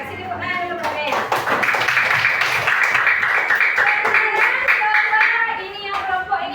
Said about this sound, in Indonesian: Kasih tepuk tangan dulu buat Naya.